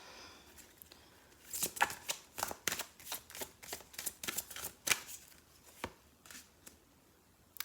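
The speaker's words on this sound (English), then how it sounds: "So I'm just going to go ahead and pull us a couple of oracle cards here." Oracle cards are shuffled by hand, a run of quick, close riffling slaps and flutters in an uneven rhythm, each a crisp papery burst, with no talking.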